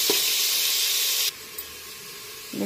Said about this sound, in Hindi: इसे हम 2 मिनट के लिए और हम फ्राई कर लेंगे